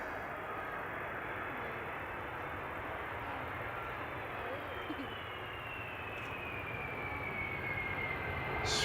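A jet airliner lands at Amsterdam Schiphol Airport with a broad, steady roaring rush of engine noise, distant but sustained, swelling slightly as thrust reversers engage.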